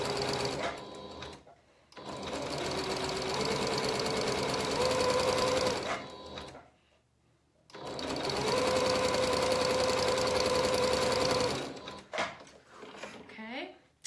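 A sewing machine runs in two long bursts of zigzag stitching along a turned-over 5/8-inch fabric edge for a McCalls 7061 garment, close and steady, with a short pause between runs and a brief clack near the end.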